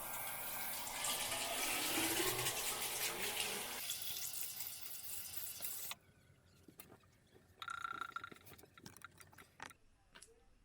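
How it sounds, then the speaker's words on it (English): Tap water runs into a bathroom sink during a morning face rinse, a loud steady gush for about six seconds, then stops, followed by quieter splashing and dripping. "I'm going to start off by rinsing my face off like I do every morning"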